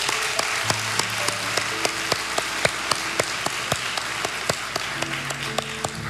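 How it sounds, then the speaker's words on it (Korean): A church congregation applauds during Sunday worship, a steady sustained wash of many hands clapping with scattered sharper claps standing out, filling the room throughout with no talk over it. "하나님께 영광의 박수 올려주시겠습니다."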